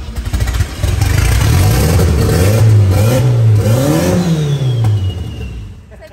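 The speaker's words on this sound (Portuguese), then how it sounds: "Caramba, o ronco do motor é muito" A turbocharged Volkswagen Gol engine revs up and down loudly at close range, rising and falling pitch in a few strong pulls before settling.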